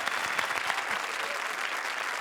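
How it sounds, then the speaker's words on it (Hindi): A studio audience at a Hindi comedy show claps loudly, with a burst of sharp individual claps up front that merges into a dense, steady ovation. "थैंक यू, जोरदार तालियां।"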